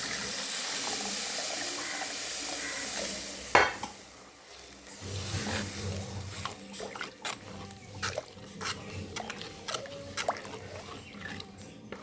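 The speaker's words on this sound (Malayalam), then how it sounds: "നമുക്ക് ആവശ്യം വെള്ളം ഒഴിക്കാം." Water is poured into a hot pan of fish curry over fried chilli powder, raising a loud, steady steam hiss that cuts off with a clatter and gives way to softer sizzling and stirring scrapes.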